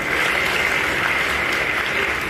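Audience clapping on request at a comedy roast, a dense, steady wash of many hands that fills the whole stretch at even loudness without pause.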